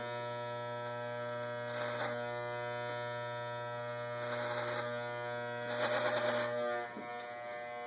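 An electric hair clipper fitted with a #1.5 guard runs with a steady close-up hum while cutting hair for a waves haircut, its buzz swelling and roughening in brief bursts as the blade passes through the hair.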